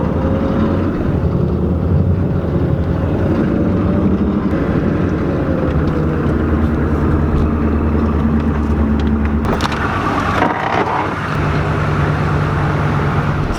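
A 1993 Chevrolet 3500 dually truck with blown gears idles and runs steadily in four-wheel-drive low, a loud continuous engine drone with a low rumble, briefly disturbed by a clunk partway through.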